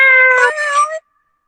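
One loud, whiny cat meow lasting about a second, close by, then silence.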